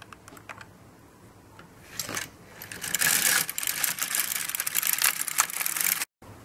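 An LK150 knitting machine carriage is pushed back and forth knitting rows of a cable-stitch neck warmer, giving a rising run of rattling, clattering mechanical swishes after a few light clicks, close and fairly loud, ending abruptly.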